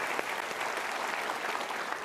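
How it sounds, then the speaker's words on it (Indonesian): Studio audience applauding steadily at a talk show taping, a dense, even wash of clapping hands filling the whole moment without pause. "bukan main, kita berikan tepuk tangan."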